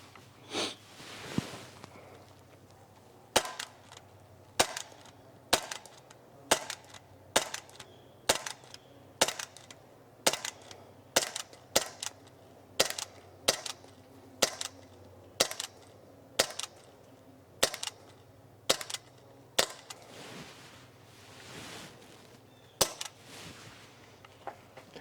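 Shots from a CO2 BB pistol, a Sig P365 or S&W M&P 2.0, fired one after another as a magazine is emptied: about twenty sharp, close pops at a fairly steady pace, with quiet gaps between them.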